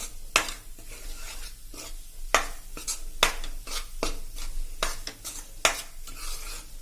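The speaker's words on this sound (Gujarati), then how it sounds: "આમાં 2 ટેબલ સ્પૂન આપણે ખસખસ પણ નાખી દેશું અને આને આપણે પણ રોસ્ટ કરી લેશું સેજ 1 થી 2 મિનિટ" Poppy seeds and flour being dry-roasted in a pan, with a spoon scraping and knocking against the pan in irregular strokes over a low, dry rustle, close and moderately loud.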